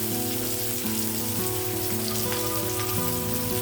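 Flat beans and sliced onions frying in a pan, a continuous close sizzle with a faint patter like light rain, steady throughout with no talking.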